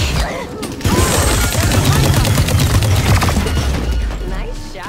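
Gunfire in the Valorant video game during a ranked match on the Brightmarsh map: a sharp shot at the start, then a loud, dense stretch of rapid firing and impacts that fades slightly at the end.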